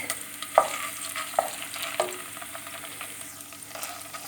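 Garlic frying in a pan while being stirred, giving a steady low sizzle with a few distinct scrapes of the spoon against the pan. It is heard close up with no talking.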